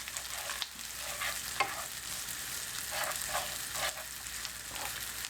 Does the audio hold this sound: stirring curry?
yes